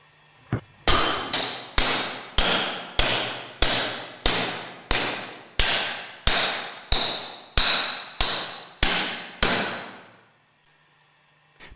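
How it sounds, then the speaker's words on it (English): About a dozen evenly spaced metallic hammer blows ring out on a pipe driving a grooved ball bearing up to its retaining ring on a Westfalia OSD18 separator, each strike loud and close with a short ringing decay, then silence. "Carefully drive the grooved ball bearing with a suitable pipe up to the retaining ring."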